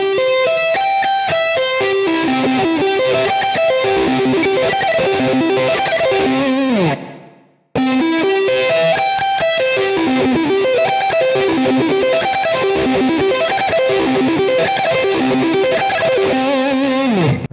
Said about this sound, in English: that gives you a pretty good idea of what a major arpeggio sounds like